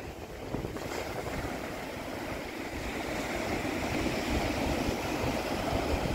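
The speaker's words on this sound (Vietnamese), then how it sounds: "Các con có nghe thấy tiếng sóng vỗ không?" Waves lapping in San Francisco Bay by the Golden Gate Bridge, a steady broad wash of water blended with wind rumbling on the microphone, continuous and slowly building, with no voices.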